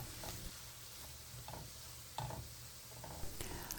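Peppercorns sautéed in a pan, a continuous low sizzle with light stirring scrapes and a few soft clicks, heard close up and fairly quiet with no talking.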